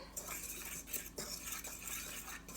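A utensil stirring coffee cake crumb mixture in a bowl, with quick scraping strokes and light clinks against the bowl's side, faint and steady with no talking.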